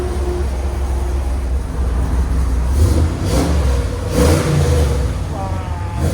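A Ram 1500 pickup with a swapped Scat Pack engine idles on a cold start, giving a steady, fairly loud low rumble that holds throughout with a few slight swells.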